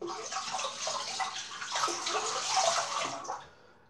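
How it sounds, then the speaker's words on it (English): A Gillette Toggle safety razor, with its blade removed, is rinsed under running tap water, giving a soft, close splashing that runs for a few seconds and then trails off. "we'll give it a full rinse and a little shake"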